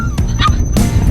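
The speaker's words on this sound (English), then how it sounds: "don't bark at the cows." A dog on a ride through a national park barks in a few sharp, loud yips and whimpers close by, with short gaps between them, while cattle are nearby.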